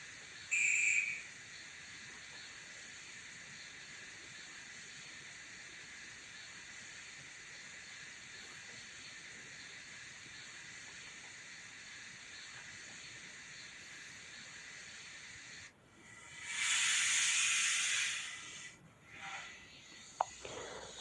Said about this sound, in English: just give you a wee bit of the sound from the Jones Goods loco